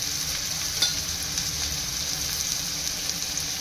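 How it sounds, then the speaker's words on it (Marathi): Tomatoes, turmeric, chili powder and salt sautéing in hot oil for a cluster bean masala, giving a steady close sizzle and frying hiss with faint stirring scrapes throughout. "लाल तिखट चवीनुसार आणि मीठ हे छान आपण तेल सुटेपर्यंत परतून घेऊया।"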